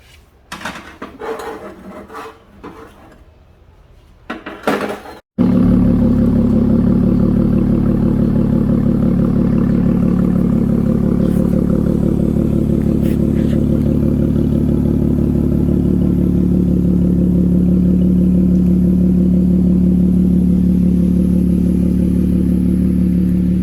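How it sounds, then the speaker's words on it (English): A few short rattling bursts, then a car engine with a new aftermarket exhaust and valved tips settles into a loud, steady, deep exhaust rumble at low RPM that holds unbroken to the end. "at low RPMs, this car sounds pretty good with the new exhaust"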